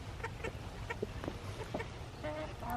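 Several chickens cluck in short, scattered bursts while pecking at a treat, close by over a low, steady outdoor rumble, with no talking.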